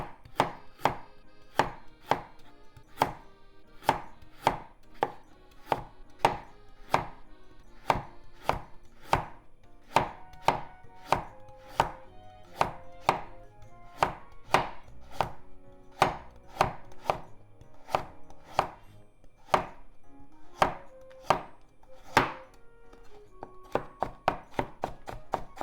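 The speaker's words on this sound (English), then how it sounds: "Cut the top off into very thin diagonal slices." Steady knife chops on a cutting board as a vegetable top is sliced into very thin diagonal pieces for stir-fried somen noodles, about forty crisp, evenly spaced strokes close by, quickening slightly near the end.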